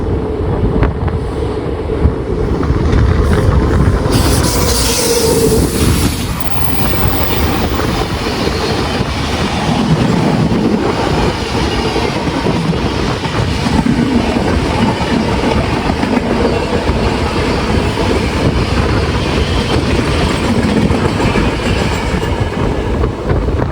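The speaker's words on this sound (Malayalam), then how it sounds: "Indoor Kochuveli അഹല്യനഗരി superfast വരുന്നുണ്ടേ." The Indore–Kochuveli Ahilyanagari Superfast express rushes past on a rainy day, a loud, continuous roar of wagons with rhythmic clattering of wheels and gusts of wind buffeting the microphone, no talk.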